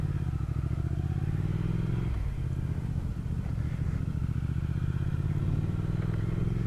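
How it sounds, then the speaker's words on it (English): A 2019 Triumph Speed Twin's parallel-twin engine idles with a close, steady, throbbing rumble and no one talking. "Such a beautiful little rumble to it. That parallel twin that Triumph is famous for is just absolutely beautiful."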